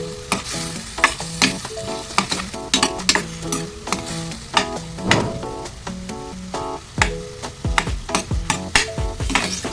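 Vegetables sauté in a pan for pancit canton: a constant sizzle is broken by frequent sharp clanks and scrapes of a utensil stirring against the metal.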